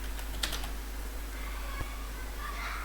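Code is typed on a computer keyboard in a few faint, scattered key clicks over a steady low hum, with soft speech in the background.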